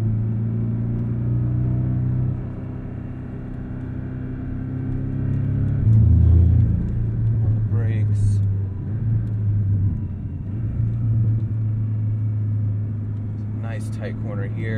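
Porsche with a PDK gearbox driving laps on a track at the Los Angeles Porsche Experience Center, its steady engine rumble rising and dipping through quick gear shifts, heard from inside the car with a person talking over it.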